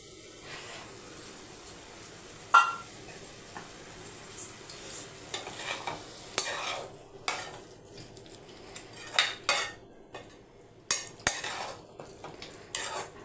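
Food is stirred in a cooking pot, likely egg and radish, with a utensil scraping and clinking against the metal in scattered bursts over a faint background hum; no talking.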